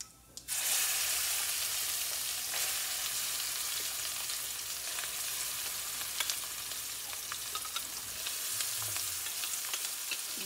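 Yellow cucumber chutney tipped into a hot tempering of turmeric and asafoetida in a pan with the stove just switched off, giving a loud, steady sizzle and frying hiss with intermittent scraping stirs throughout, no voices.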